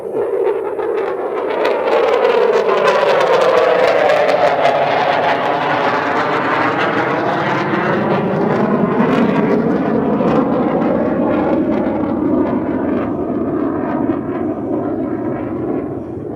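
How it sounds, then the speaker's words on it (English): Propeller training-flight airplane passing overhead near St George's Hotel in Paphos, Cyprus, a loud sustained engine drone whose pitch sweeps downward as it goes by, heard alone. "Oh, there it is up there. The training flight."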